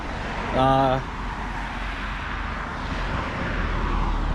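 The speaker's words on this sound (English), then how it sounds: "So there's a lot of traffic at this bridge." Road traffic rumbles and swishes past at Kauffman's Distillery Covered Bridge in Lancaster County, a steady broadband roar under a short spoken phrase near the start.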